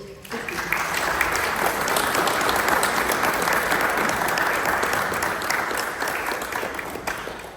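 Audience applause for the speakers at a co-op fair fills the room, a dense, steady wash of many hands clapping that swells quickly and holds for several seconds before tapering.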